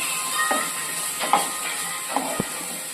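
Turmeric dropped into hot oil for a dal bhuna crackles and sizzles under a steady hiss, with a few sharp pops and spatters scattered over about three seconds.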